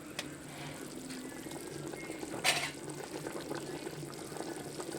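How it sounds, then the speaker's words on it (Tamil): Water boils in a cooking pot for chicken dum biryani with basmati rice, a steady soft bubbling and churning close by, with one brief louder splash near the middle. "நல்லா கொதிச்சிருச்சு"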